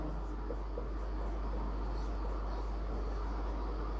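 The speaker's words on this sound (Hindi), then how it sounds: "तो जैसे मैं लिख देता हूँ" Chalk or marker scratches steadily across a board during an English grammar lesson in a classroom, a faint, continuous scraping over a low steady hum.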